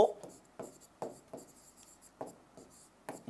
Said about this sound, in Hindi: अब कृष्ण की जगह आप राधा लिख दो